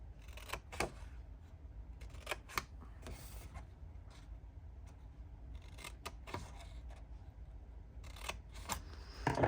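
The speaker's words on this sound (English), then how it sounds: "I'm just going to cut the sides like this" Scissors snip through the sides of a paper mini file folder in a series of sharp, separate cuts with short gaps between them, close by and fairly quiet, and no one speaks.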